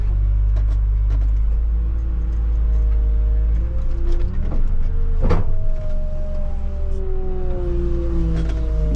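A wheel loader reverses while building a berm, its engine droning steadily with a low rumble and shifting whining tones, loud and close, with no talking.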